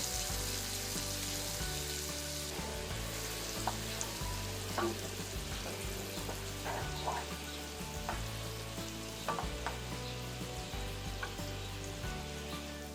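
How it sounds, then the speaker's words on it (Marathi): Masala paste for a cauliflower curry sizzles and fries steadily in hot oil, a dense continuous crackle with occasional louder spatters and scraping stirs, close and fairly loud with no voices. "मिक्स करायचं आणि चांगलं असं तेल सुटेपर्यंत हा मसाला तेलावर परतवून घ्यायचा आहे."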